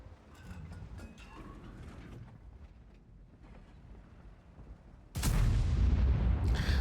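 A tank cannon firing in World of Tanks, a Grom tank destroyer, one sudden loud, close blast midway that cuts through a low rumbling engine and ambient hum and keeps booming to the end.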